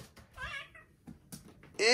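A child makes a nasal, wavering meow in imitation of a cat while pretending to be one, followed by a shorter second cry and a sharp burst of noise at the end.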